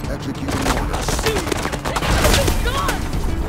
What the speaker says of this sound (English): Each gun has more of an impact to them, especially your Kodiak's weapons, which sound absolutely devastating.